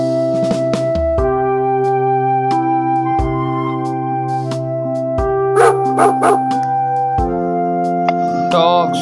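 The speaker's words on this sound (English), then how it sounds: "dogs" Dog barking in a farm-animal setting, several short barks and yips over a steady musical backing, fairly close and clear.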